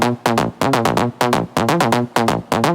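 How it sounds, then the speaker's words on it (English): The main lead layer of a Serum synth patch for an EDM lead plays a bright, buzzy line of punchy notes in a steady repeating rhythm, loud and close with nothing else behind it. "And now let's get down into the main lead sound."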